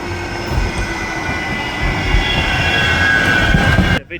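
A Manchester Metrolink tram passes close by, a loud steady rail rumble with rattling wheels and a thin high squeal over it, cutting off abruptly at the end.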